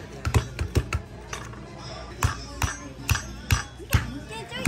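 A hammer knocks against a crab shell at a table, giving a string of sharp, irregular cracking taps close by, with people chatting around it.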